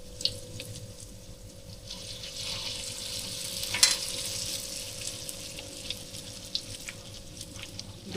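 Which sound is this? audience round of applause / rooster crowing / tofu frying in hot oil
tofu frying in hot oil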